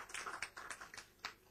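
A small quiz-night audience gives a short, faint round of applause for a team, heard as a quick burst of scattered claps.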